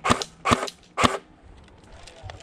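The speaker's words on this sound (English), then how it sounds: "that thing went full automatic" An airsoft sniper rifle fires three sharp, loud shots in quick succession, roughly half a second apart. Faint background noise follows.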